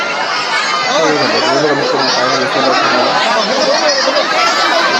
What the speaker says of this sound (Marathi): टायगर बघण्यासाठी बघा पब्लिकची गर्दी किती आहे